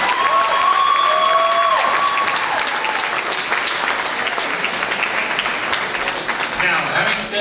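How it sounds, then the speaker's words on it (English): A dinner roast audience gives sustained loud applause that holds steady for several seconds, with crowd murmur and some voices mixed in. "Please give them a round of applause."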